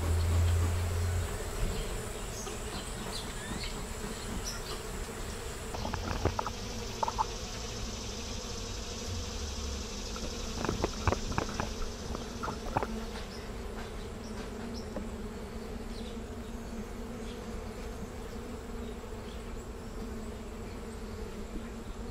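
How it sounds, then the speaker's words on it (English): Honey bees buzzing around an open hive on a frame-inspection day, a steady droning hum with individual bees passing close now and then, no voices. "Bees on the lid there"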